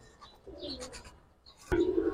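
A Giribaz pigeon, a hen kept by a hobbyist, cooing faintly with soft murmurs, then one louder, sharper coo near the end.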